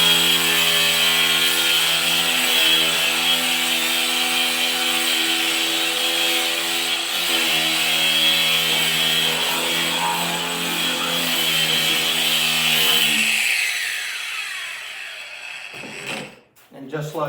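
A power tool whines loudly and continuously as it bevels the edge of a wooden tabletop, a steady buzzing hum that cuts off near the end, followed by brief handling clunks.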